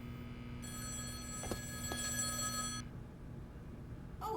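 A telephone rings in The Stanley Parable video game: a sustained electronic bell tone with a couple of sharp clicks, then it cuts off and leaves quiet room hum. No one speaks.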